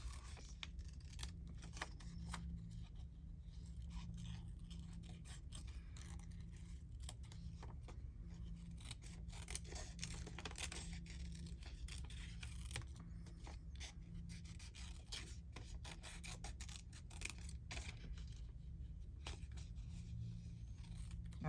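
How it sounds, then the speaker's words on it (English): Scissors snip through paper ephemera during a craft session, trimming along a border and cutting off sharp corners; repeated short, quiet cuts and paper rustles over a steady low hum. "I don't like sharp bits, so I just snip that off."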